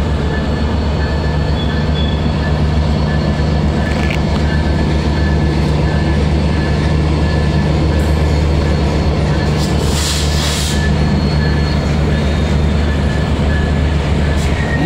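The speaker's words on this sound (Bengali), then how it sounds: "মধুমতি এক্সপ্রেস ট্রেনটি ঢাকা রেল স্টেশন থেকে অসাধারণ সুন্দর লোকেশনে রাজশাহীর উদ্দেশ্যে কিন্তু ছেড়ে যাচ্ছে" The Madhumati Express rolls out of Dhaka railway station toward Rajshahi, a loud, continuous low rumble of engine and carriages with a steady hum and brief hissing bursts, heard close and sustained throughout.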